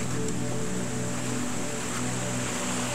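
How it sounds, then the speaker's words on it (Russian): A winter mountain stream in Germany's Harz mountains burbles over a steep drop, giving a steady, dense rush of water that stays even and unbroken throughout, with no voices. "Слышно по журчанию воды. Как она журчит тут."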